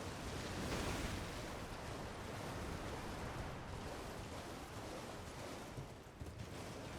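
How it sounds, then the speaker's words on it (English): Waterfall in the video game Elden Ring, a steady broadband rush of falling water filling the whole stretch at an even level, continuous and fairly close with no talk. "We're gonna go through this waterfall."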